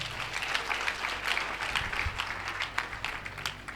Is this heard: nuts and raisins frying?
no